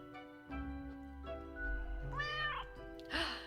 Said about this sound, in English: The cat delightedly meowed.